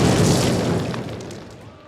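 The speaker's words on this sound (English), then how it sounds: "Place your explosives on the cinder block wall." A single heavy explosion rumbles and decays as charges detonate on a cinder block wall in the Call of Duty training mission, a loud boom fading over about two seconds.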